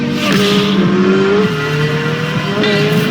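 A loud, raw Corvette flat-plane crank V8 engine roars close by, its pitch climbing and dropping through gear changes, with a faint tire squeal.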